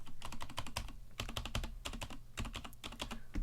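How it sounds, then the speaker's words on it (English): Fast, continuous typing on a Vortex Cypher mechanical keyboard, crisp clacky keystrokes in quick bursts with short pauses, close and clear with no talking. "let's get a bit of typing happening"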